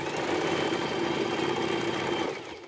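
An electric sewing machine runs steadily while stitching the fall onto a saree with a piping border, a continuous close mechanical whir and rapid needle chatter that fades out at the end, with no talk.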